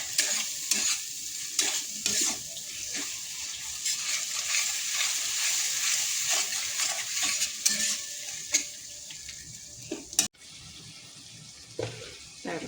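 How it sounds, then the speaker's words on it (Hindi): Ginger, garlic and cumin paste sizzles steadily in hot oil while a spoon stirs and scrapes it in repeated bursts, loud and close. It ends with a sharp clank and quieter hiss. "अदा रसुण जीरा बटा अदा रसुण बागेकि कषीदे"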